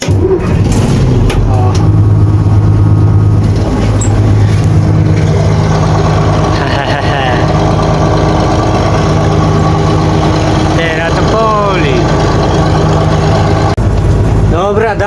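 A Bizon combine harvester diesel engine, cold-started in frost, idles steadily and loudly with a deep throbbing rumble, briefly revving, while a person talks faintly nearby.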